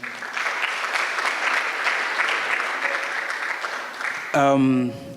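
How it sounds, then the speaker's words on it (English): Sustained applause from a conference audience at an international healthcare conference fills most of the clip, steady clapping that ends as a voice begins speaking. "Let's give a round of applause to Dr. Thiga."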